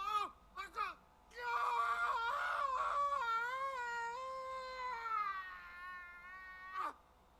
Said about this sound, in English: That didn't really sound like the scream of a man that's just had his eye tore out